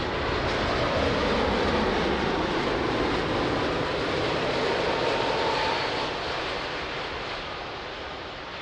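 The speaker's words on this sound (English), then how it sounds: "Nice smoky landing." A jet airliner landing at Lisbon Airport gives a broad, steady roar throughout, loud at first and slowly fading toward the end.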